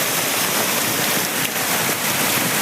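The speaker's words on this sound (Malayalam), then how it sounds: "മഴ പെയ്തപ്പോൾ രണ്ട് സൈഡിൽ വെള്ളം ഒഴുകി വരികയാണ്" Rainwater rushes beneath a culvert bridge on NH 66 at Randathani, Malappuram, a dense, steady broadband wash of flowing water and rain with no pauses.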